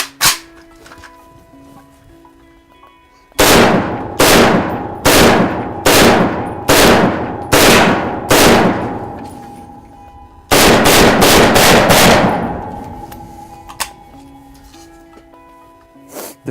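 A 3D-printed Liberator gun fires in sharp, loud single reports: one early shot, then a spaced volley of about seven, a pause, and a quick burst of five more, each ringing out with a short decaying tail.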